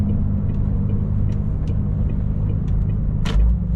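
A truck rumbles steadily at low speed as it pulls off the road at a fuel station, with a deep, close engine drone and a few short hissing bursts, likely from the brakes.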